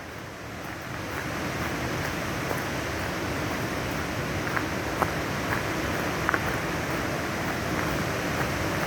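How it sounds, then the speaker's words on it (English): A river flows beside a forest trail near Nymph Falls, a steady, broad rushing wash that stays even and close throughout, with faint scattered ticks and no talking. "Listen to the river."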